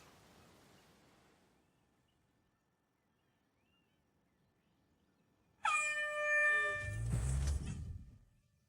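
A loud air horn blast sounds suddenly after a quiet stretch, a harsh held tone lasting about a second before dissolving into a heavy low rumble, with faint noise beforehand.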